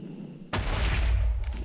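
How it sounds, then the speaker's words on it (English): An armor suit's energy ball strikes the ground in a video game, a sudden loud blast followed by a sustained roaring, crackling burst that carries on without pause. "I guess I'll just shoot an energy ball at the ground"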